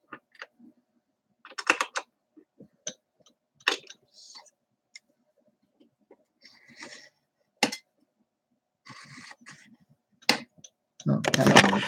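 Keystrokes on a new computer keyboard, sparse scattered clicks with a brief fast burst near the end, close and fairly quiet, with pauses between.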